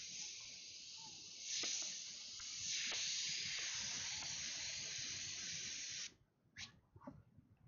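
An airbrush sprays paint thinned with reducer, a continuous close hiss with a couple of brief surges, cutting off abruptly near the end before a few short spurts.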